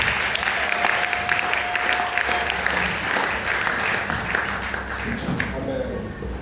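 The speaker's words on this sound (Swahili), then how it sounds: "Makofi mengi kwa mchungaji." A church congregation claps steadily for the pastor at a men's day celebration, a dense, sustained wash of many hands with a brief voice-like tone early on.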